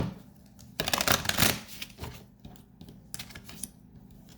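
Tarot cards are shuffled close by, a loud riffling burst followed by shorter crisp flicking and tapping rustles spread through the rest.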